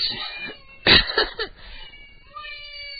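Cats meow a few times in the background, one loud meow near the middle with shorter calls around it and a faint one near the end, on a low-level broadcast bed.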